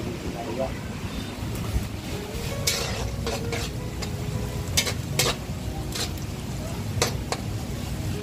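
Pancit noodles stir-fried in a pan hiss and sizzle steadily while a utensil scrapes and clacks against the metal in scattered bursts, with people talking over it.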